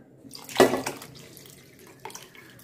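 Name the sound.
water poured into pressure cooker to rinse it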